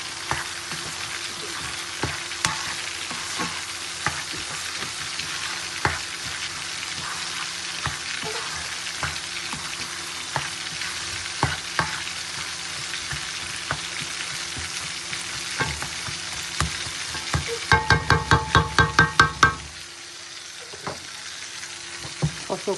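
Spices sizzling and frying in a pan for chicken roast, a steady close crackle with stirring clicks that grows into a burst of scraping near the end.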